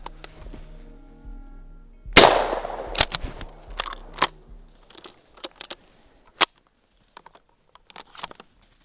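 A single loud gunshot cracks out during a grouse hunt on a forest road, its echo trailing away. Scattered sharp clicks and rustles follow, with no talking.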